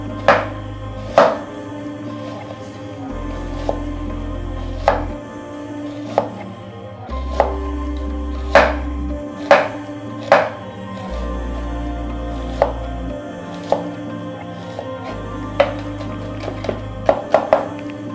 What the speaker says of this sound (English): you need to cut onion like this. And you need to add a nice slit one, and then you chop this